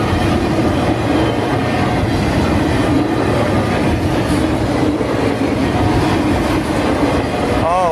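A CSX autorack freight train rolls steadily past close by, with a trailing SD40-2 locomotive, its wheels clattering and rumbling continuously at a loud, even level, while a faint squeal rises near the end.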